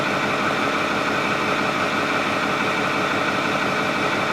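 A 6.4 Powerstroke diesel engine with a check-engine light and a lack-of-power fault runs steadily at idle, a dense, continuous close-up drone with no talking.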